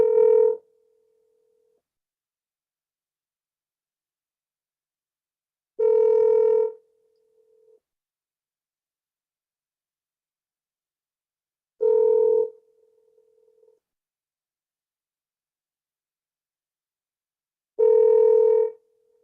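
A telephone line tone heard while trying to call back a caller, repeating as four identical short steady beeps spaced about six seconds apart, loud and clear with silence in between.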